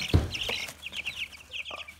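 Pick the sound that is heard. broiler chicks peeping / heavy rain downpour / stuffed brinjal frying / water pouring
broiler chicks peeping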